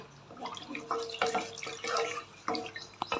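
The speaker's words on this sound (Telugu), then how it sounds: "మొత్తం యాడ్ చేసేస్తున్నా ఒక్క లీటర్ వేసానండి వాటరు ఆ చింతపండుకి" Water pours over tamarind in a vessel for ajwain-leaf rasam, making a close, uneven splashing gush that swells and fades in short bursts, with no voices.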